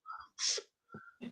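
Two quick sneezes, each a sharp intake followed by a burst, are heard up close and on their own in quiet.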